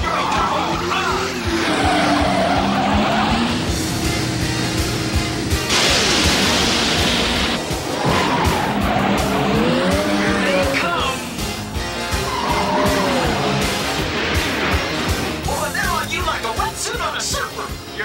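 A cartoon racing vehicle, the Red Fury, engaging turbo boost, with loud continuous engine roar, whooshing bursts and skidding noise layered with music and voices talking over it.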